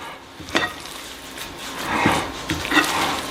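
Ham salad mixture being stirred by hand in a bowl, with a few soft scraping and squelching strokes spread over a few seconds against low room noise.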